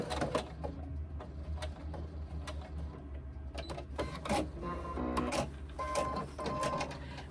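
A sewing machine runs steadily while stitching the body piece of a reversible tote bag, a continuous mechanical hum with clicking and short bursts as the fabric is guided, close and moderately loud throughout.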